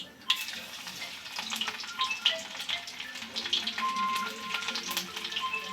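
Cumin and mustard seeds crackle and sizzle steadily in hot oil, with scattered sharp pops over a dense frying hiss, close and fairly quiet, with no talking.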